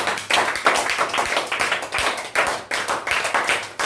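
A church congregation applauding the Lord, with dense, close, continuous clapping from many hands that swells in uneven waves.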